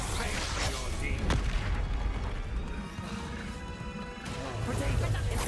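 Heavy crashing blast from the Confringo fire spell in the Hogwarts Legacy video game, a sharp impact followed by rumbling debris and game effects, with a voice faintly under it.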